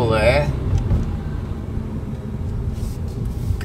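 A VW T-Cross R-line with a small turbocharged petrol engine, 1.0 or 1.5 litre, pulls under acceleration as a steady low rumble that holds throughout, with a voice speaking over the opening moment.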